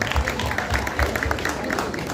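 A crowd applauds a primary school placed ninth at a schools music festival awards ceremony, dense sustained clapping close by, with some faint voices mixed in.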